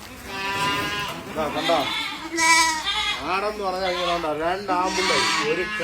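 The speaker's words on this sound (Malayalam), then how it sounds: "രണ്ടും കിടായി കുട്ടിയാണേ." Goat kids bleating close by, a rapid series of wavering, overlapping cries that continue throughout.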